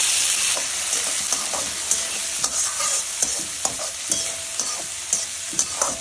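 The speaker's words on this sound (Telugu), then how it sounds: "గ్రీన్ బఠానీని వేపాలి." Boiled potato pieces and green peas frying in hot oil, a continuous close crackling sizzle with regular spatula scrapes and taps as they are stirred.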